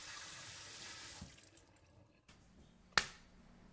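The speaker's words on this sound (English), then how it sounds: "Once cut out, we can moisten our leather from both sides completely." Water running from a tap to wet cut leather for a bag, a soft splashing flow that stops, then quiet handling and a sharp drip-like tap near the end, faint and close.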